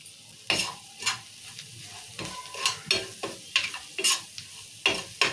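Egg curry in a pan being stirred after salt, turmeric and chili powder go in: repeated close scraping strokes over a low sizzle, no talking.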